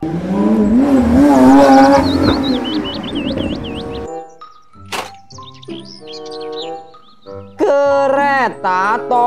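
A toy race car's engine whines with a wavering, revving tone and high chirping squeals for about four seconds, followed by short, choppy voice-like sounds.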